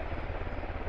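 A helicopter in the military shooter game Squad drones steadily close by, its rotor thumping in a brief, even burst.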